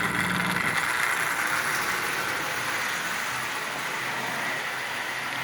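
An antique Marx toy train's original manual E-unit motor, fitted in a wind-up Commodore Vanderbilt shell, runs with a steady whirring hum and rattle, close and continuous without any talk.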